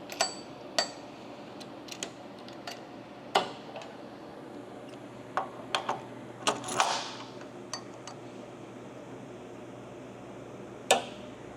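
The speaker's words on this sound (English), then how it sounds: "clamp your flange down." A pipe flange is clamped down for welding fabrication, heard as a scattered series of sharp metallic clicks and taps at irregular intervals, with a brief scraping rattle midway, fairly close with no talk.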